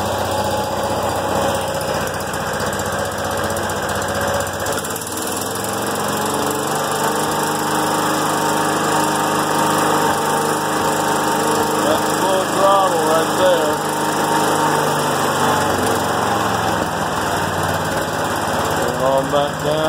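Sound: John Deere 212 lawn tractor engine idling, no choke

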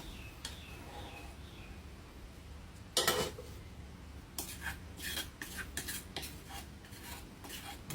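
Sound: stir-frying curry paste in garlic oil

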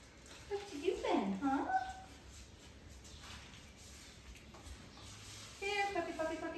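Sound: puppy whimpering and yipping

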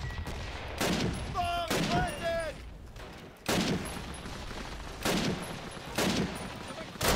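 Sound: gunfire in video game Call of Duty United Offensive

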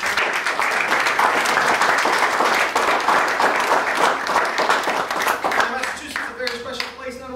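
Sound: audience applause

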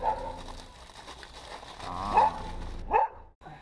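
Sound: angry dog barking

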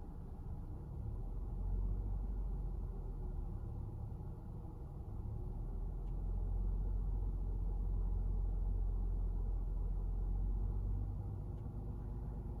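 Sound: car engine held at 1,000 RPM

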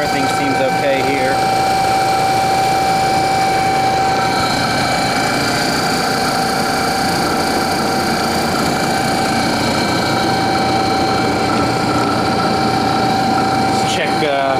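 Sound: old Imperial electric dynamo running, sparking at the brushes

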